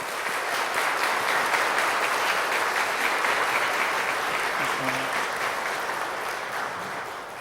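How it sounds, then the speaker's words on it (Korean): A church congregation at a Korean Sunday worship service applauds together to welcome guests, a sustained, even wash of clapping that fades slightly toward the end, with no one speaking over it. "우리 교우분들 마음을 모아서 함께 박수로 환영해 주시면 감사하겠습니다"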